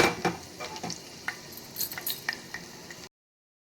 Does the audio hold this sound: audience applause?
no